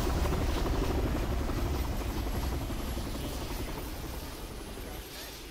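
A CH-53 heavy transport helicopter flies overhead at a Russian airsoft game, its dense rotor thump and engine roar loud at first and slowly fading as it moves away.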